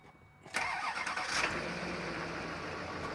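A 2007 Chevy pickup with an LBZ Duramax diesel cranks briefly and catches, settling into a loud, steady diesel idle close by.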